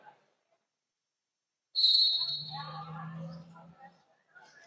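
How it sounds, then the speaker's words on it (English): A referee's whistle at a roller derby game gives one sharp, shrill blast after a silence, and an announcer's voice follows it. "that'll be the whistle for Jam 25"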